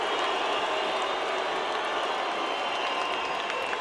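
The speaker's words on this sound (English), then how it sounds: "Filipino fans booing Barrera as he tours the ring" Filipino boxing fans in a packed arena boo Marco Antonio Barrera as he tours the ring before his fight with Manny Pacquiao, a steady, loud, continuous crowd roar with no breaks.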